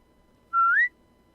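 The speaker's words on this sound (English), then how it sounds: "That's the whistle to bring Rosie back in." A single clear whistle, a short steady note that glides upward, calls a dog back in The Walking Dead: The Final Season video game, heard alone against near silence.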